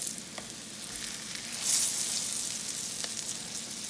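Salmon or mackerel patties frying in a pan give a steady, close sizzle and crackle, with a brief louder hiss midway and no talking.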